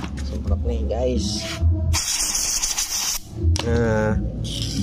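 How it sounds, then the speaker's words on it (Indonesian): Aerosol spray can hissing in short bursts during a motorcycle water pump seal repair on a Honda Vario 125/150, close and loud, with someone talking between the sprays. "Semprot nih guys."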